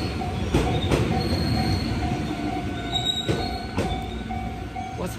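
A train rumbles past in Japan with steady rolling noise, faint wheel squeal and occasional rhythmic clacks over the rails, no voices.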